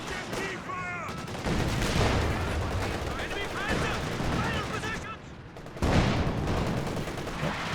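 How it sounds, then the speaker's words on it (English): A Walking Stuka rocket artillery barrage in Company of Heroes 2 pounds the field with rapid, dense bursts of explosions and gunfire, loud and continuous with a brief lull before resuming, under a voice speaking at times. "Comes the Walking Stuka barrage."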